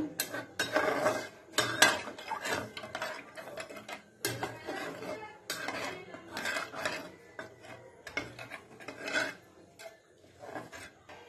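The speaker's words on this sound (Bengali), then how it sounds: "জল দিয়ে ভালো করে মিশিয়ে নেব" A spoon scrapes and rasps around a pot as cream sauce is stirred with water, in repeated rhythmic strokes with short pauses, close and fairly loud throughout.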